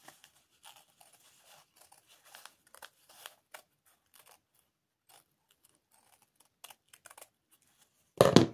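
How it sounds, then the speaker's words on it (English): Scissors trim quilt fabric pieces in a string of crisp, light snips and clicks at irregular intervals, close and fairly quiet, before a louder handling thump at the end. "Then a pair of scissors to trim the rounded sides."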